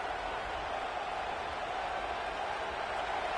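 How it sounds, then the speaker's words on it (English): A distant college football stadium crowd roars in a steady, unbroken wash of noise, the cheering blended into a constant hum. "This crowd bringing the energy and noise early."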